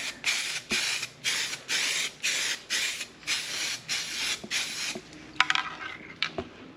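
Seam paint sprayed onto a sun-faded kei truck dashboard in about nine short, loud hissing bursts at an even rhythm, then a pause with clattering handling noises.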